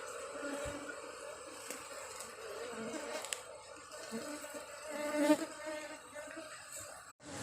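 Apis cerana bees buzzing during a hive transfer into a new box, a steady diffuse hum of many insects close by with a few faint handling knocks.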